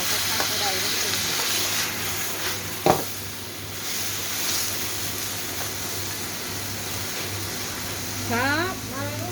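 Water spinach and crispy pork stir-fried in a wok over a high flame give a steady, close sizzle with bursts of steam. A brief voice and a sharp clatter rise over it.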